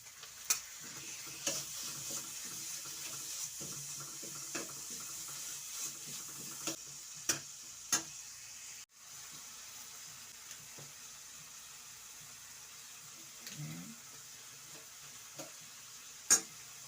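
Ground meat frying in a pan with tomato, stirred now and then, a quiet sizzle under sharp scrapes and clacks of the spatula against the pan, with one louder knock near the end.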